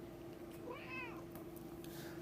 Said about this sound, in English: So there's my cat again.